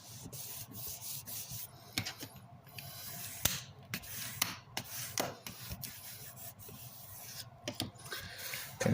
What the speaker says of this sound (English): I'm going to go ahead and burnish that down.